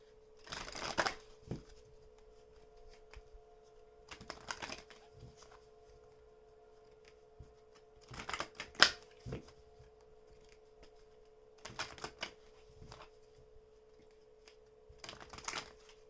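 Oracle cards shuffled in short bursts of quiet riffling, about five separate rounds spread apart, over a steady low electrical hum.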